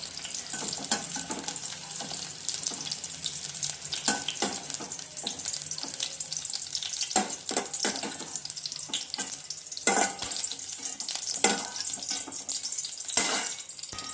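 Okra fries in a pan while being cooked for a bhindi curry. A continuous hissing sizzle sits close to the listener, with intermittent scraping and clattering from stirring and no talking.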